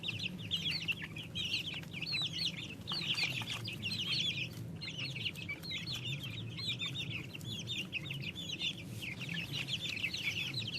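A flock of Red Ranger broiler chickens and smaller Bantams clucks and chirps continuously, many overlapping calls at moderate distance with soft rustling underneath and no talking.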